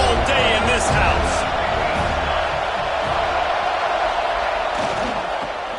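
Stadium crowd at a college football game roars in a steady, dense wall of noise with scattered whoops and cheers, loud and sustained throughout with a commentator's voice over it.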